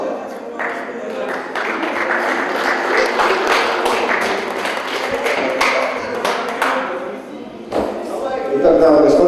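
Crowd applause at an amateur boxing tournament as fighters are called into the red and blue corners, a steady wash of clapping lasting several seconds, with a voice talking over it at times.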